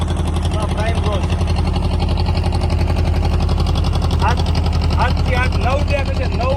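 Cars and four-wheelers driving up into a very large cargo ship bound overseas, their engines making a steady, loud, continuous drone with voices talking over it throughout.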